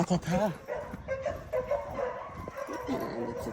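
A dog yips and whimpers in short, excited bursts close by, mixed with people talking.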